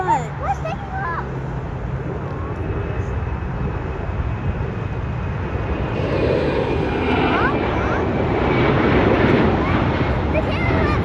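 A fixed-wing airliner takes off at LAX, a broad engine roar swelling and growing louder over several seconds, with wind buffeting the microphone and people talking nearby.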